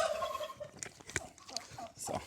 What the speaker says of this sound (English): Now we like to let our turkeys out first